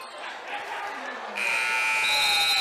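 A long, loud electronic buzzer sounds in a high school basketball gym to end the half, kicking in abruptly and holding steady over crowd noise and court sounds.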